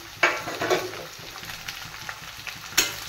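Tomatoes tumble into onions browning in a pan, setting off a sharp sizzle and crackle with a few louder bursts, then a steady soft frying hiss with occasional stirring clicks, and no voices.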